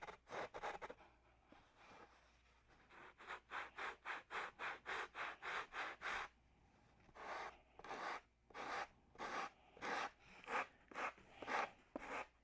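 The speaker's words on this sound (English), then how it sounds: "Now sand to the bulkhead." Sandpaper rasps against a model aircraft's bulkhead in quick, steady back-and-forth strokes, a dense rhythmic scratching that runs alone and close for the whole stretch.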